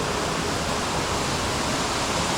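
Rocky Creek Falls in Sherwood Nature Reserve, NSW, roars as water pours down its second drop, a steady, loud, broadband rush of falling water heard up close without interruption.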